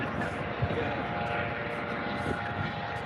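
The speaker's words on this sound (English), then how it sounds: "I'll keep my eyes on the helicopter." A helicopter flies over Blackpool during SAS training, giving a steady rotor and engine drone that holds at moderate distance throughout.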